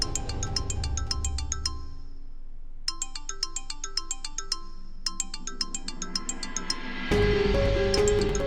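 A phone ringtone plays a bright, repeating chime melody in two bursts with a short pause, then music takes over.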